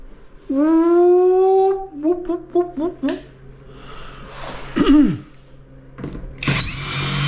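A power drill unscrews a screw during professional tiling work: the motor whirs up to a steady pitch, then gives several short trigger bursts, with a brief squeal and a louder burst near the end.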